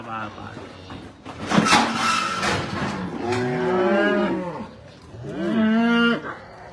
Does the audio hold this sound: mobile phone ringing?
no